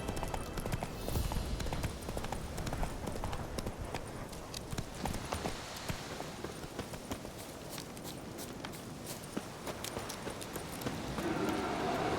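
The horse Roach gallops in a video game, a steady rapid clip-clop of hooves carrying on throughout, moderately close against a soft ambient backdrop.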